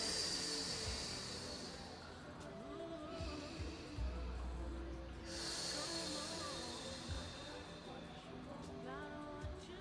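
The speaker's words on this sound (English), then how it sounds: "Three breaths." Slow, deep breathing during a gentle full-body yoga flow, with long airy inhales and exhales swelling and fading at a steady, unhurried pace, faint and close over a soft background.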